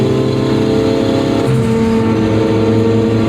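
Car engine droning steadily while driving gently to break in a new clutch disc before hitting boost, a loud, constant low hum with a brief shift in pitch midway and no talking.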